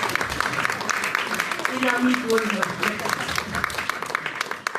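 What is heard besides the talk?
audience applause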